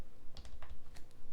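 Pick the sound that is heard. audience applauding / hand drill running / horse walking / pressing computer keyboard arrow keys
pressing computer keyboard arrow keys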